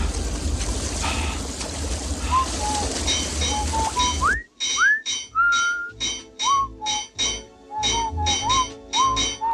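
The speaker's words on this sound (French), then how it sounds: "Arrête un peu de siffler" A person whistles a melodic tune of short, gliding notes, first over a loud rumbling engine hum, then alone in clear, spaced phrases with brief pauses between them.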